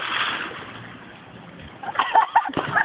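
A person dives into water outdoors in Calauan, Laguna, making a churning splash and sloshing that kicks in after a quieter stretch, with voices shouting nearby.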